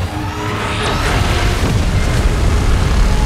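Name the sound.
beam blast from MechaGodzilla or Godzilla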